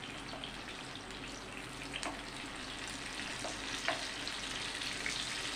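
Ridge gourd (gilki) fries in hot oil, a soft, steady sizzle with scattered pops and light taps of a utensil, fairly quiet and close, with no talking.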